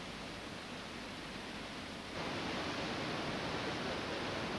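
A waterfall cutting into sediments below a basalt sill with columnar jointing, heard as a constant broadband roar that swells louder midway through, no voices.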